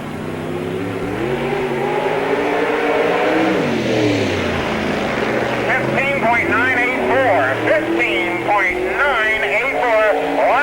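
A late model race car runs a qualifying lap on a dirt speedway at the 1998 Spoon River Speedway Summer Nationals, its engine droning and revving steadily from mid-distance while a track announcer talks over it.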